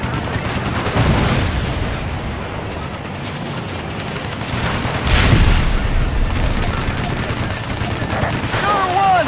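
Gunfire in the video game Ace Combat Assault Horizon, with dense rattling bursts and rumbling booms mixed into a constant loud wash of combat noise, along with faint radio-style voices.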